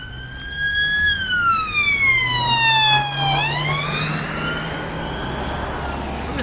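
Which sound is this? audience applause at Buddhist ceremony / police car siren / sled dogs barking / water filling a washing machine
police car siren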